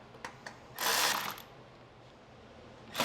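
A ratchet wrench snugs up bolts on the plastic housing of a snowblower during home servicing, giving a few quick clicks followed by a short burst of rapid ratcheting nearby, then a brief final click.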